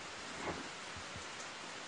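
Heavy rain pours steadily outdoors, a dense, even hiss of water that fills the whole moment with no voices, only faint low rumbles beneath the downpour.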